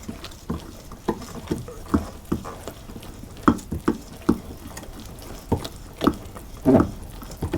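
A dough whisk stirs a dark ginger loaf cake batter in a bowl, making repeated soft, wet, squelching strokes in an uneven rhythm, close and fairly loud.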